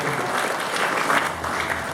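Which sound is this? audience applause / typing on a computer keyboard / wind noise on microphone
audience applause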